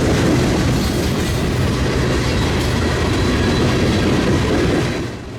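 A CSX freight train, Q403, rolls past with BC Rail boxcars in its consist, a loud, close, continuous rumble of wheels and clattering cars along the River Line, fading slightly at the end.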